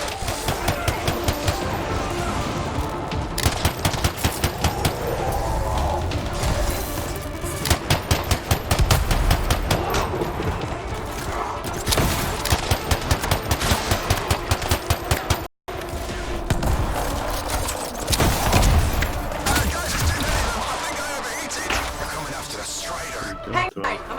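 Rapid automatic gunfire from a weapon in the video game Anthem, loud repeated bursts of machine-gun fire with short pauses, mixed with game effects and voices talking over it.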